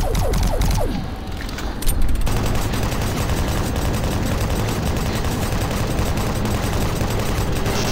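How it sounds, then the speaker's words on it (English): Sustained rapid weapon fire in the Doom 3 Resurrection of Evil shooter game, a dense, loud, continuous rattle of shots that barely lets up. "Come on, keep shooting."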